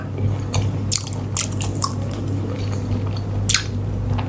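Someone bites and chews crunchy candied santol fruit up close, giving repeated moist crunches and squishy, wet chewing sounds in an uneven rhythm over a steady low hum.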